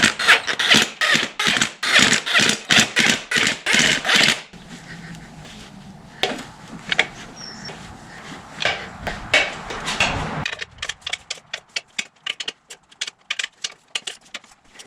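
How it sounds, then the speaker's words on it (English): Small valve cover bolts being snugged down on a 2003–07 Honda Accord V6 during a valve cover gasket job: fast, sharp ratcheting clicks come in steady bursts, close and loud, slowing to separate clicks near the end. "I got a bunch of small bolts to put in and snug up"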